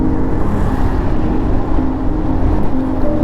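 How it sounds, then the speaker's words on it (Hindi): Vehicle approaching from behind on the NH12 highway, heard from a moving Yamaha Ray ZR 125cc scooter, a loud continuous engine and road roar with wind noise and no talk. "पीछे से गाड़ी आ रही है।"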